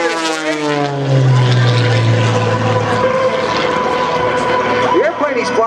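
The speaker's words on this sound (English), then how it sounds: "The airplane he's flying is called the MX2" Droning propeller engine of an MX2 aerobatic airplane performing at an air show, loud and sustained with shifting pitch as it maneuvers, a strong low hum swelling early then continuing under crowd ambience.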